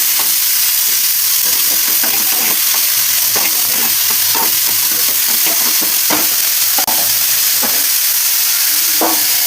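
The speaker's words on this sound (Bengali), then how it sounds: "এবার আবারও ভালোভাবে নেড়ে নিচ্ছি।" Neem leaves and potato pieces sizzle and fry in a pan while a spoon stirs them, giving a steady crackling hiss broken by repeated scraping strokes, close and loud with no talk.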